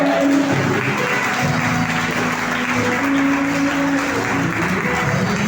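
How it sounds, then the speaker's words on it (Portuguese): Church congregation at a Sunday worship service applauding loudly and steadily, a dense continuous clapping that fills the room with a voice faintly audible underneath. "Aplauda bem forte esse Senhor."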